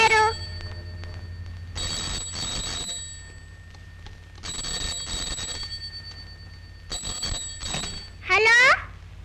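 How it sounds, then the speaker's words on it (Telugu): A telephone rings in bursts inside an empty house, repeated trilling rings separated by pauses, fairly loud and close, followed by a brief voice at the end. "ఫోన్ అవుతుంది, ఇంట్లో ఎవరు లేరు."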